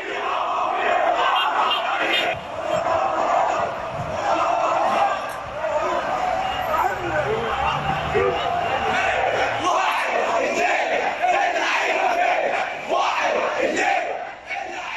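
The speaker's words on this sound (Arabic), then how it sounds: "الجمهور عايز يشوف اللعيبه فبيهتف" Al Ahly football fans massed outside the team hotel in Mansoura, a loud, continuous crowd roar of chanting and cheering voices that swells and dips throughout.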